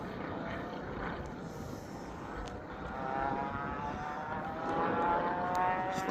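A light propeller aircraft coming in to land, its steady droning engine fairly distant and slowly growing louder, with no talk over it.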